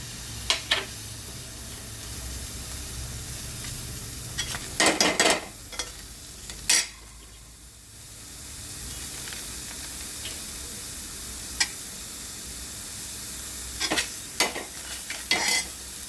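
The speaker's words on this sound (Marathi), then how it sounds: "आता याच्यामध्ये आपण हा कांदा टाकूया कट केलेला" Chopped onion hits a hot pan, giving a steady hiss of frying broken by repeated sharp scraping and clanking strokes of stirring, with a brief quieter lull midway; no speech.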